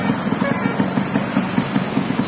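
A 1987 Japanese-made Yamaha RX100 two-stroke motorcycle on a highway ride from Guwahati to Goalpara, its engine droning steadily with a pulsing low rumble and wind noise throughout.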